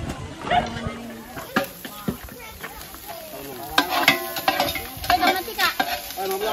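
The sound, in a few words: stirring food frying in a pan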